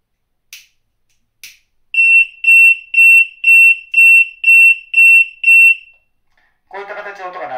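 An arson monitoring sensor, set off by flame, sounds its alarm: after two faint clicks, eight evenly spaced loud electronic beeps ring out, followed by a person speaking briefly at the end.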